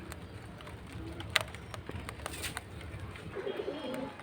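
Pakistani high-flying pigeons coo softly amid faint wing flutters and handling rustles, with low murmuring noise in the background over a few seconds.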